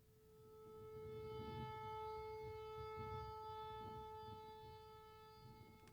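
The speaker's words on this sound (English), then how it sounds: "it's likely just a malfunctioning tornado siren, like this." A malfunctioning tornado siren gives a steady, droning tone holding one pitch with layered overtones over a low rumble, never rising or falling as a normal siren would.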